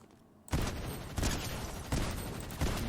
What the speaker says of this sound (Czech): Tady už někdo po mě střílí.